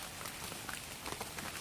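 Rain falls steadily on an estate during a fishing outing, making a dense, close patter of drops with no voices.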